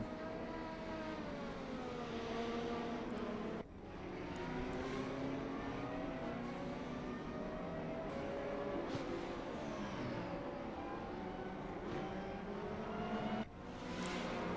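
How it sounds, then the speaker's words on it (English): High-pitched Formula 1 V10 racing engines scream and rise in pitch as they rev through gears, with cars roaring past repeatedly, loud and sustained. "all you hear is that screaming V10"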